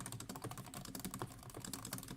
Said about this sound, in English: It's time for typing ASMR.